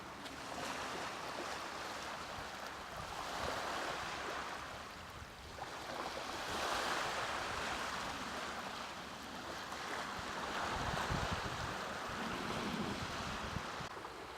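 Ocean waves wash steadily onto the beach at Discovery Park in Seattle in winter, a continuous broadband surge rising and falling over about fourteen seconds, with some wind noise and no talk.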